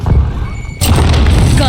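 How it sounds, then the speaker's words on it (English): Grenade explosion in a first-person shooter game, team deathmatch on a sawmill map: a sudden loud boom at the midpoint that swells into a sustained rumbling wash over steady game ambience. "Throw a grenade."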